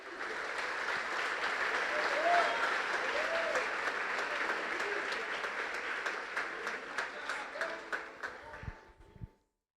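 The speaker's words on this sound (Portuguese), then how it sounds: "Pode aplaudir ao Senhor." A church congregation applauds during a pastor's service, sustained and dense, then thinning into scattered claps before stopping, with faint voices underneath.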